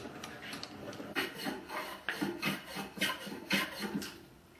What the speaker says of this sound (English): I'm going to first go with the hand plane.